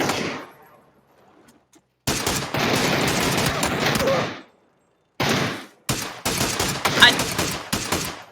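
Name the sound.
gunfire from an SLR rifle in a video game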